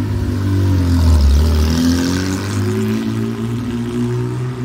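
A vintage Porsche 906 Carrera 6 race car drives past at a classic car road rally, its engine a loud, sustained mid-range drone that swells and then eases as it goes by, with no talk.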